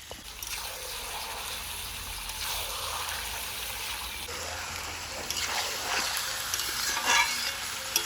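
Chicken pieces and onions frying in a pan with cinnamon and cardamom, giving a steady soft sizzle with occasional stirring scrapes that grow slightly louder toward the end, no talking.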